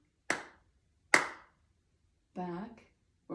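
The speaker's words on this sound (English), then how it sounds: "This time I'm going to clap twice and back." Sharp, close hand claps during a wall balance exercise, two separate claps with a short pause between them, followed by brief speech.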